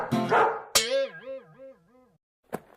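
Dog in a comedy skit, a close, loud bark followed by a long wavering whine or yelp, then a short sharp bark after a pause.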